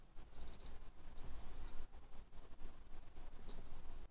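A Casio STR-300C digital watch gives several thin, high electronic beeps as its buttons are pressed: a quick double chirp, a longer held tone, then a short final beep, all quiet against faint room noise.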